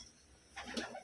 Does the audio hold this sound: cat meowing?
no